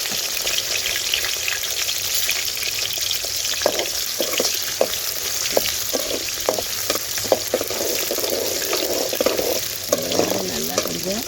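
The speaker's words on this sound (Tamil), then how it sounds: "கருவேப்பிலை, வெங்காயம் போடுறேங்க." Curry leaves and whole small onions hit hot oil in a pan for a mutton sukka, giving a loud, dense, continuous sizzle with rapid crackling pops and some scraping from stirring, close and steady throughout.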